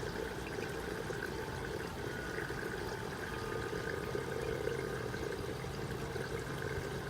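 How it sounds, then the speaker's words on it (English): Water drains steadily from an aquaponics deep-water-culture bed being cleaned out, a constant close rushing trickle that holds even for several seconds. "just wait for the water to drain"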